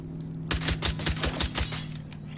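Pistol gunfire in the video game Red Dead Redemption 2: a quick run of about seven sharp shots fired in close succession over a steady ambient hum.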